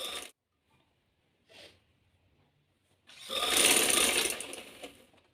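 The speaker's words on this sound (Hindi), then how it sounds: "अंदर की तरफ हम इसकी सिलाई लगा रहे हैं" A sewing machine stitches a seam on a baby frock, with two brief whirring taps followed by a longer, louder run of rapid needle clatter lasting about two seconds, close up.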